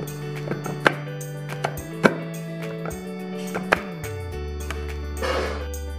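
A Mitochiba CH200 food chopper's lid twists shut and clicks into its locked position, making a few sharp, close plastic clicks over a steady tonal hum.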